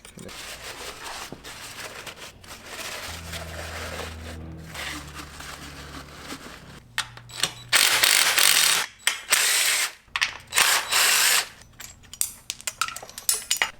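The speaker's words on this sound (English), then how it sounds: "I'm gonna loosen the clamps up on both sides that hold the throttle body down." A ratchet wrench loosens the throttle body clamps on a 2012 Suzuki GSXR 1000 under repair, first quietly with some low mechanical hum, then loud rapid clicking bursts close by, starting and stopping several times.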